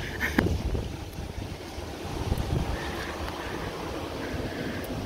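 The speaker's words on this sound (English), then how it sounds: "Oh, it got windy." Wind blows steadily outdoors around a historic town square, buffeting the microphone with a constant low rumble and a few gusty thumps. No one speaks.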